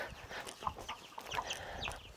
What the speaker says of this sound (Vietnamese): Đây cả cái đàn gà cũng, ôi rồi 1, 2, 3, 4, 5 đàn liền.